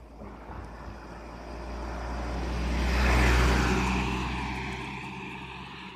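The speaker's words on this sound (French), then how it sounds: "Voiture." A car drives past outdoors near a cemetery, its broad engine and tyre rumble swelling to a peak at mid-clip and then fading away, with no talk over it.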